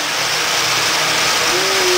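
Model Penn Central train locomotives, older diesel engines including U28B models, running loudly on a layout, giving a steady, close, broadband whirring motor roar with no pauses throughout.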